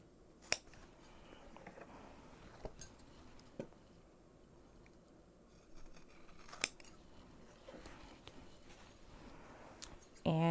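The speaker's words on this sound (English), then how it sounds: "I'm just going to cut right on that line" Scissors cut through fabric for a sewn boxy bag, giving a few sharp, separate snips spaced seconds apart against a quiet room, close and fairly soft, with a louder handling clatter at the very end.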